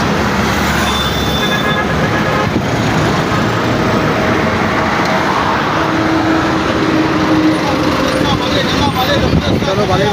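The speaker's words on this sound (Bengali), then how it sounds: "চলো বালির বাস চলে এসছে।" A bus pulls in at Bali station on a hot, busy day, its engine rumble set in a constant loud wash of road traffic, with people talking nearby throughout.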